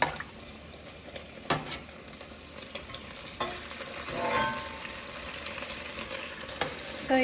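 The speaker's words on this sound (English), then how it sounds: "we're gonna start frying our pork in here" Pork sizzles steadily in hot lard, with occasional pops, crackles and the scrape of stirring.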